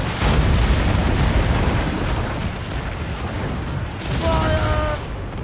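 Naval cannon fire from a ship battle in Assassin's Creed Rogue, loud broadside booms at the start and again near the end over continuous rumbling battle noise, with a voice calling out briefly.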